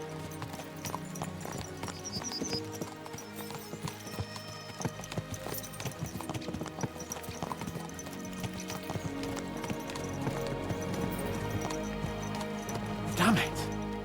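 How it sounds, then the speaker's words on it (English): Horses gallop in the medieval video game Kingdom Come: Deliverance 2, their hooves clopping in a continuous rhythm under a musical score, with a brief whinny near the end. "Let's really spur these horses on, eh?"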